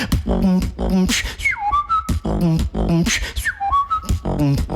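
A beatboxer layers sharp whistled tones over rapid mouth-made kicks and snares, the pitched whistles sliding and sustaining between percussive bursts in a tight, close, loud groove.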